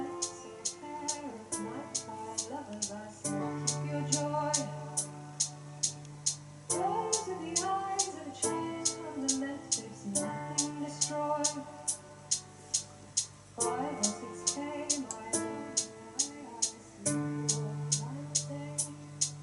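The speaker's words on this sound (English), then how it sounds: "block in a very, very rudimentary piano part just to give it some harmony" A simple, sparse piano part plays block chords for harmony under a guide vocal, while a sharp click track ticks steadily through the whole passage.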